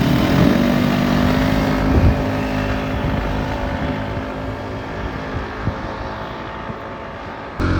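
Zontes 150X, Honda Click 160 and Yamaha Aerox stock scooters accelerate together in a race, a steady loud engine drone with rising harmonic whine sustained throughout, with no talking over it.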